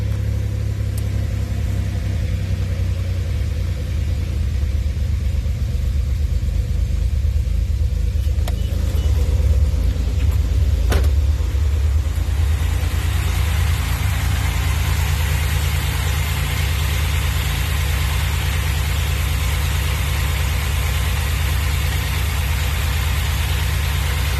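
A 2007 Pontiac Grand Prix GT engine fires up and settles into a steady idle, with a continuous low rumble filling the whole stretch and a brief clunk partway through.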